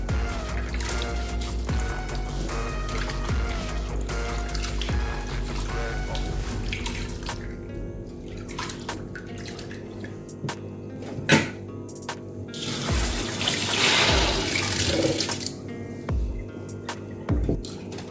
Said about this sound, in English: I like boiling it and we'll wash it till the water runs clear.